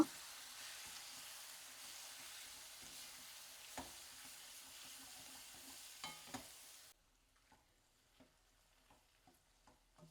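Gongura leaves fry in a pan with a steady, soft sizzle and occasional stirring scrapes for several seconds, then the sizzle cuts out, leaving faint intermittent taps and clinks; quiet and close, no talk.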